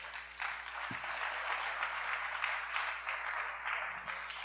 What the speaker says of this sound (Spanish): Dele otro aplauso al Rey